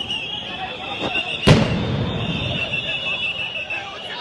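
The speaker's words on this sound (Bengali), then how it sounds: "একের পর এক সাউন্ড গ্রেনেড নিক্ষেপ করছে পুলিশ সদস্যরা" A police sound grenade blast at the Jamuna entrance during a pay scale protest, one sharp, loud bang over a constant murmur of crowd noise and voices.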